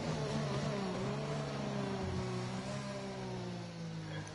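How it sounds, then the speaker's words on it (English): A race car engine drones steadily while accelerating on a hot lap at Spa, its pitch rising and shifting with gear changes, loud and continuous from an onboard perspective. "Now it's time to push. You can hear the change in the engine."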